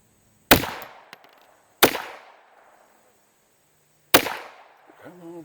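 Three loud, sharp gunshots from an H&K PSP 9mm pistol fired into an oil drum, spaced irregularly with short decaying echoes, followed by a brief voice at the end.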